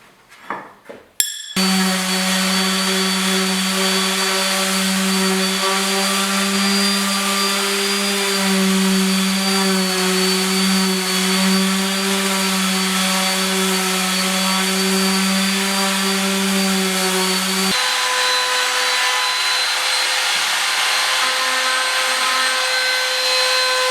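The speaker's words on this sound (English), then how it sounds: "we're gonna clean up the edges with a sander, and then we're gonna round over the top just with an 1/8 inch round over bit on the router" Electric sander and router with an 1/8 inch round-over bit rounding the edges of an MDF workbench top: a loud, steady motor whine running continuously, dropping to a lower, lighter tone near the end.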